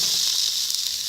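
Bell peppers sauté in a hot pan for a vegan purple cabbage meal, giving a steady soft sizzle and hiss throughout with no talking.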